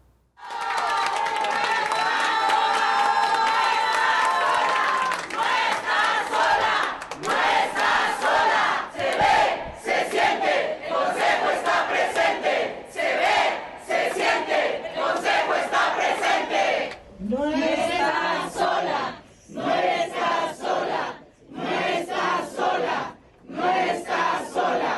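A large crowd cheers and applauds Mexico's Supreme Court president Norma Piña, a loud sustained roar of voices and clapping broken by brief rhythmic chants and short pauses.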